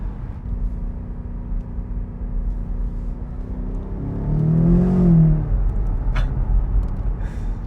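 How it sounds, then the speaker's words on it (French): BMW M8 Competition convertible accelerating on the road, a steady engine drone and tire roar that swells into a rising rev around the middle, heard from inside the car. "J'avais peur que tu t'endormes Théo, c'est pour ça j'accélère un peu"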